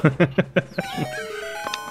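Chickens cluck in The Legend of Zelda: Majora's Mask 3D: a run of four loud, rhythmic clucks, then a sustained tonal game music layer with a brief higher chirp near the end.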